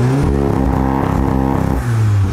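A Volkswagen Golf GTI sits on launch control, its engine held at high revs with a rapid stuttering limiter pulse, loud and close, before the note drops and then surges again; no talk is heard.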